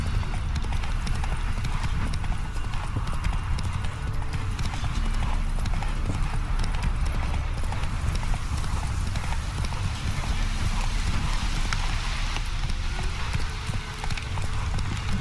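Horse hooves gallop in a steady, rapid clip-clop rhythm throughout The Witcher 3, close and continuous over a constant bed of game ambience, with an occasional faint whinny.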